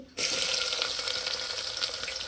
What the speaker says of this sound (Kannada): ಎಣ್ಣೆ ಸ್ವಲ್ಪ ಬಿಸಿ ಆಗಲಿ. ಸ್ವಲ್ಪ ಸಾಸಿವೆ, ಒಣಮೆಣ್ಸಿಕಾಯಿ ಬೇಕಿದ್ದರೆ ಹಾಕೋಬೋದು, ಮತ್ತು ಈರುಳ್ಳಿ